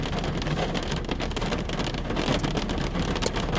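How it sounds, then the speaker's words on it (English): Steady heavy rain falls outside in Vermont, a dense, continuous patter of drops on surfaces, close and even throughout with no speech. "I'm just sitting here waiting for the rain to slow down so I can get out."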